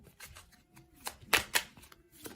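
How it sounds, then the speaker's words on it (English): Playing cards being shuffled up close, a few quick riffles and soft flutters with sharper snaps in the middle, no talking. "let's shuffle some cards"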